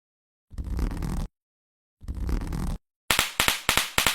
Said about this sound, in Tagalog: Ito ang watusi. Isa sa ginagamit namin na paputok.